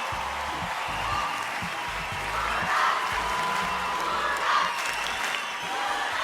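A studio audience at the Turkish TV show O Ses Türkiye applauds and cheers for a singer, a sustained wash of clapping with occasional whoops rising and falling throughout.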